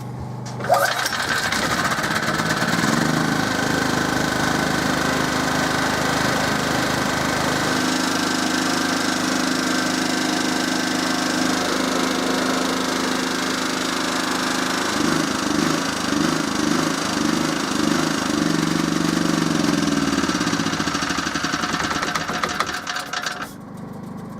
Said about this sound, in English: got to turn the fuel back on because I turned it off for safety